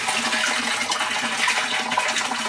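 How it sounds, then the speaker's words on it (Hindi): Rainwater pours steadily into a rooftop water tank, a constant splashing rush of falling water that stays at fairly even loudness. "तो देखिए टंकी में मैंने पानी लगा रखा है और अभी भी काफ़ी मोटा पानी आ रहा है।"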